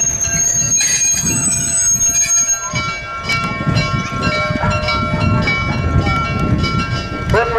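Locomotives passing in a railway parade, loud and close, with wheels squealing on the rails, rumbling cars and sustained high metallic screeches all the way through.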